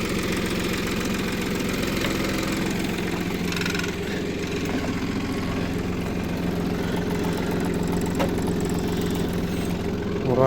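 A tractor engine in second gear with four-wheel drive labors steadily while ploughing a field in late May, a loud, close, continuous diesel drone with a rhythmic knocking throb and no speech.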